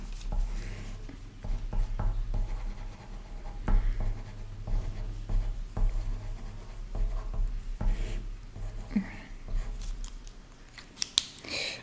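Hand writing a note with pen on paper, soft scratching strokes and small taps in irregular bursts over a low steady hum, close and fairly quiet.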